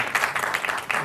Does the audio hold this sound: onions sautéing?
no